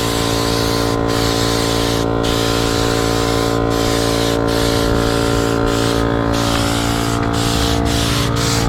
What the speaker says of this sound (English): so I got the compressor hooked up. I'm putting the stain on first coat